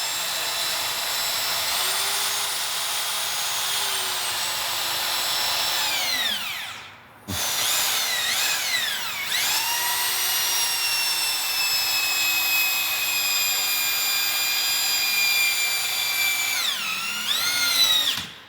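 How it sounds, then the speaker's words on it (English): A variable speed drill drives screws into a stacked log wall, whining steadily at high pitch with speed dips and rises, briefly stopping near seven seconds before revving again. "the slow speed, variable speed drill like that is what's needed to put those screws in."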